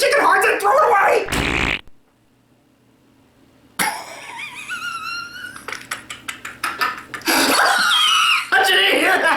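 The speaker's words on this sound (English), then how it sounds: "Fart sound effects are always comedy gold." Loud, sputtering fart sound effects go off in bursts, with a silent gap between them and a clatter of noisy bits around them.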